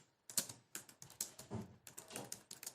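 Quiet, rapid typing on a computer keyboard while a message is entered, an irregular run of light key clicks and taps with a few heavier strokes, close and faint with no voices.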